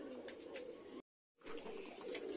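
Golden bajri pigeons with green neck rings coo in a low, continuous warble, close and steady, broken by a brief silent gap partway through.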